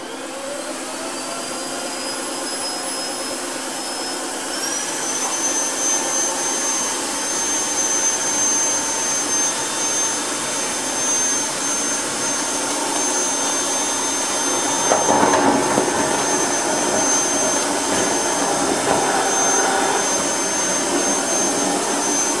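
Tineco iFloor 3 wet-dry vacuum cleaner running at maximum speed, a loud continuous high whine and airflow roar, with a brief pitch rise early and some rattling as debris is sucked up midway.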